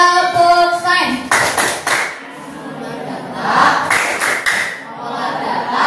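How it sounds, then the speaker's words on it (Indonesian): A classroom of children performs the rhythmic science clap chant, sharp claps in quick patterned bursts mixed with their chanting voices, close and loud. "Tepuk sains."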